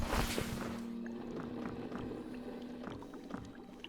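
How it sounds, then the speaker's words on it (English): A slow water drip in the Eldritch game, sparse faint drops falling at irregular intervals over a dim, murky ambient background with a louder burst at the start. "You can hear that slow drip. That's a slow drip, by the way."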